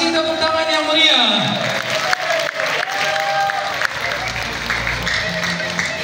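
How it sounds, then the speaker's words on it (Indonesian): Applause from a seminar and workshop audience fills the room, a sustained wash of clapping with crowd murmur and voices over it. "Kasih tepuk tangan yang meriah."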